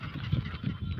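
Ducks feeding on dry ground beside water in the early evening give a quick run of nasal, honking quacks, close and fairly loud, with no one speaking.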